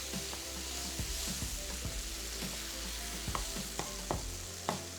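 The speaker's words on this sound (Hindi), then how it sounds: "टमाटर को इस तरीके से इसको भूनते जाएं, टमाटर को चम्मच से कुचलते जाएं" Tomatoes fry and hiss in a pan as a spoon crushes them, with sharp metallic taps striking at an irregular pace over a constant sizzle and a low background hum.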